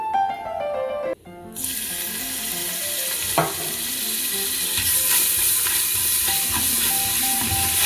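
Crushed ginger hits hot oil in a pan with a sudden bright sizzle, then a steady frying hiss continues under scraping and stirring clinks, with a sharp knock partway through, all heard close up without talk.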